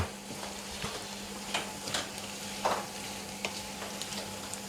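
Crickets fry in oil over raised heat, a faint steady sizzle broken by scattered light stirring clicks and scrapes, close but quiet, with no talking.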